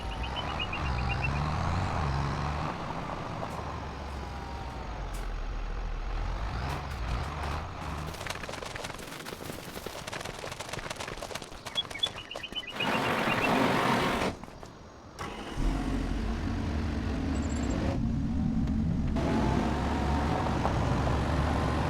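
Farm vehicle in the video game Farming Simulator 25 heading off to cultivate, its engine droning steadily and close with occasional beeps and a brief dip in sound, no talk.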